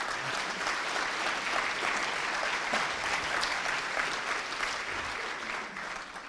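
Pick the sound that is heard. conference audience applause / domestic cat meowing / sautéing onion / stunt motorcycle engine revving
conference audience applause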